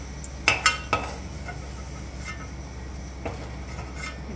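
Garlic being sautéed and stirred in a pan for garlic thokku, a faint low sizzle with a few clinking spatula knocks against the pan early on and occasional scrapes later.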